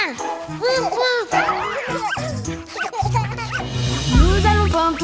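A voice imitates a dog barking in a playful sung rhyme with music, repeating short "woof"-like yips between sung words, close and clear.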